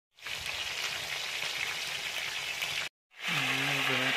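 Trout fish frying in a pan late at night, a loud, close, continuous hiss and sizzle that cuts out briefly, then resumes with a faint low hum underneath.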